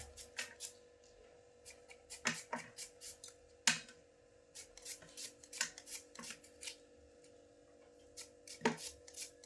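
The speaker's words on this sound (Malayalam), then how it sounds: "ഇങ്ങനെ നീളത്തിൽ അങ്ങോട്ട് അരിഞ്ഞിടുക" A knife chops vegetables lengthwise on a cutting board in irregular sharp taps, some quick clusters and a few harder strikes, close up, with no talking.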